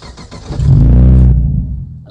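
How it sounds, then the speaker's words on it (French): A Morgan roadster's 3.7-litre Ford Cyclone V6 fires up on a push-button start, a loud swelling roar for about a second that settles into a deep rumble. "Et le moteur démarre immédiatement."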